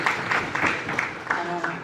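An audience at a Tamil readers' memorial event claps, a brief burst of scattered applause running under a speaking voice.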